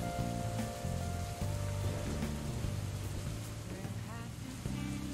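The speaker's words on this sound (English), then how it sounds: "Wow, that rain is incredibly loud." Heavy rain pours steadily in Dark Souls Remastered, a loud continuous hiss over low, droning game music with sustained tones, no voices present.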